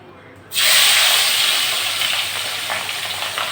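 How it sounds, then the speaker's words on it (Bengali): Pabda fish hits hot white cooking oil with a sudden loud sizzle that holds as a steady, bright hiss of frying. "মাছটা আমি ভেজে নিচ্ছি, গরম হয়ে গেছে তেলটা, সাদা তেলে রান্না করছি।"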